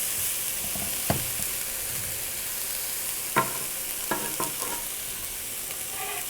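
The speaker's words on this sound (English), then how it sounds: "I just like to start with cooking the garlic and onion first. And I like to give that a little toasting first" Garlic and onion toasting in olive oil sizzle with a steady broad hiss, broken by a few sharp spoon-against-pan clinks as the pan is stirred, close, with no voices.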